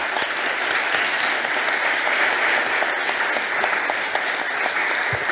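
Applause from a forum audience for the panelists of a discussion, a full, even roar of many clapping hands lasting the whole stretch, with a few sharper individual claps standing out and no voices.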